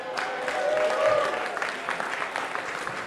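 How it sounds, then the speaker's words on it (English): An audience at a PorcFest 2011 roast claps and cheers in a dense, steady burst of applause that peaks early and then thins slightly, with a few voices mixed in. "I want to see a real cheer for Seiko CAI"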